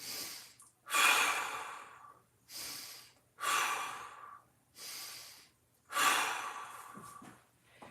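Slow, deep breaths during a hip mobility stretch, five long airy inhales and exhales close to the microphone, with pauses between them and no talking.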